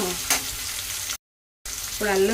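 Ginger, garlic, black peppercorns and two green chillies fry in a pan for an Andhra mutton curry, a steady loud sizzle with a stirring clatter near the start, broken by a short silence, then sizzling again with a brief scraping tone.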